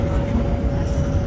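A high-speed train running from Kunming to Chongqing in winter enters a tunnel, heard from inside the carriage as a loud, steady low rumble with a constant whining tone over it.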